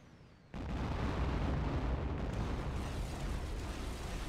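A burning target explodes in the Operation Flashpoint video game, a sudden loud blast that swells into a long, sustained rumbling roar.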